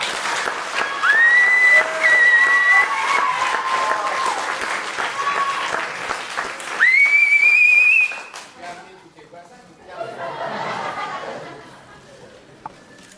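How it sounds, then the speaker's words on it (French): An audience at a French televised tribute applauds Sandra with steady clapping, broken by two shrill whistles that rise and hold. The applause thins, then swells briefly again under murmured crowd chatter before fading. "On applaudit encore une fois Sandra."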